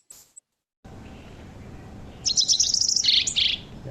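A small bird sings a rapid series of high, bright chirps and trills, fairly close, over a steady low background hum.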